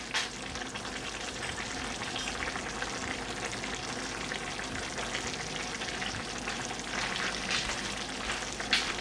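Broccoli florets fry in a one-pan chorizo savoury rice as its liquid cooks off, making a continuous close sizzle and bubbling hiss with occasional stirring clatter and no voices.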